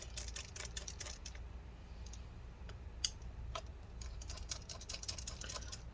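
A small screwdriver works the tiny bottom screws of a MacBook Air A1465, producing quiet, rapid ticking clicks in irregular bursts against a soft background hum.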